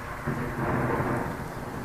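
A low rolling rumble of thunder over steady rain, swelling briefly and then fading.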